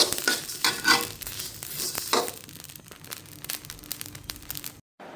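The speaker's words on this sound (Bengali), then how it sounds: "মানে অনবরত নাড়তেই থাকতে হচ্ছে, হয়তো আবার বীজ দিয়ে পুড়ে যাবে, হয়তো বেশি ভাজা হয়ে যাবে।" Seeds dry-roasted in a pan and stirred constantly, giving steady scraping, rustling stirs with a crackly fry throughout before an abrupt cut to near silence at the end, with no talk.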